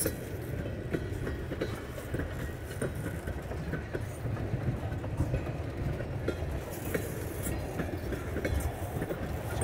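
A Norfolk Southern freight train hauling billet cars rumbles past with a steady low roar and rhythmic clacking of wheels over rail joints, continuous and fairly close.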